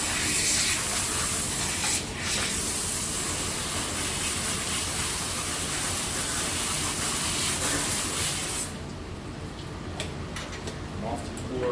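Hissing spray from keg filling in a brewery, a broad steady spritz running for several seconds before cutting off, leaving quieter background with faint clicks.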